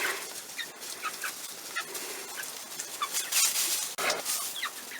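Chickens cluck and chirp in a farmyard as a rooster and hens approach new chicks in cold weather, with short clucks scattered across a steady airy background, fairly near and moderate in level.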